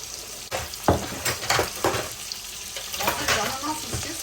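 Food fries in a pan close up, a continuous crackling sizzle broken by soft clatters and scrapes as it is moved around, with no one talking.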